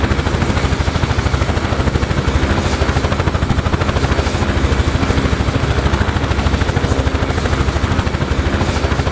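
SA342 Gazelle helicopter taking off in DCS World, a loud, steady rotor chop with a rapid, even beat and a constant high turbine whine throughout.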